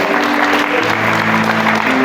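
Church congregation clapping loudly and steadily throughout, a dense wash of applause at a worship service with faint music tones beneath.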